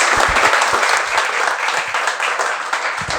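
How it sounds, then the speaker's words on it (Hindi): Steady, loud audience applause fills the room from start to finish, greeting a person during a motivational talk. "तालियां इनके लिए जोरदार"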